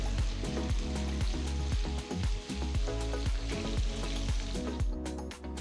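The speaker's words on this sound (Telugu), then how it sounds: "తర్వాత నేను పొడవుగా తరిగిన 2 ఉల్లిపాయలు వేస్తున్నాను. వీటిని కూడా 2-3 నిమిషాలు వేయించాలి." Long-sliced onions frying in hot oil in a home kitchen pan, a steady dense sizzle running throughout with occasional stirring clinks, close and fairly loud with no voices.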